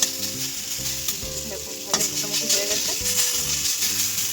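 Frying in a little oil over a low flame in a pan for a fish and cauliflower curry, with a steady gentle sizzle and repeated stirring scrapes and taps of a spatula, close by.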